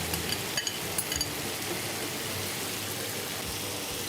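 Chopped onion and tomato hitting hot oil in a pan, giving a steady soft sizzle with a few small clinks early on and no talking.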